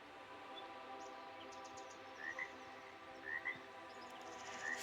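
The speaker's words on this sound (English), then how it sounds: "Frogs sang in harmony" Frogs croak by a lily pond in a steady chorus, faint and continuous, with a few brighter calls and chirps rising now and then over the low drone.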